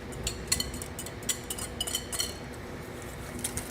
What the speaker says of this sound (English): Let's go ahead and whisk this together first, then whisk into the pot with the milk.